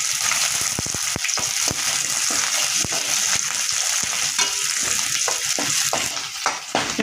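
Shallots and garlic sauté in a pan for a village-style black urad dal chutney, a steady close sizzle with frequent sharp spoon scrapes and clicks against the metal throughout.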